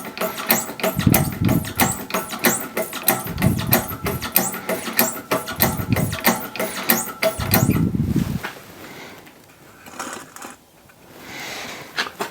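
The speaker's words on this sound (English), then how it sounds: "So you can see what the fast lever's like." The hand pump of an SGS 75-tonne hydraulic press is worked with its fast lever, giving fast metallic clicking and four heavy rhythmic pump strokes, then softer mechanical sounds near the end.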